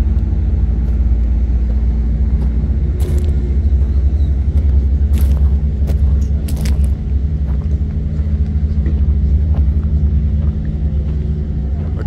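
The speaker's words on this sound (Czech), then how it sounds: "To jsou kamiony takovýhle typu, prostě starší modely ze starších Dakarů." Older-model Dakar rally trucks in a classic vehicle zone give off a loud, steady low engine rumble that continues throughout, with faint clicks and knocks now and then over the drone.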